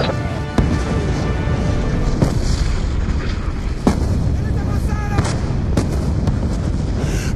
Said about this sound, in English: The mortars have stopped!